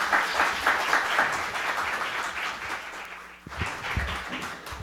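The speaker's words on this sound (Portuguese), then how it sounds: "eu queria pedir uma salva de palmas para Elvira Lobato." An audience at a book launch gives a burst of continuous, dense applause that dips briefly before swelling again, loud and close throughout.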